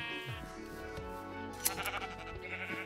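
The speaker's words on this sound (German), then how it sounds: "wenn hier so viele Schafe rumrennen" Minecraft sheep bleat repeatedly in quick overlapping calls, fairly close and clear, with a short sharp click midway and no speech over them.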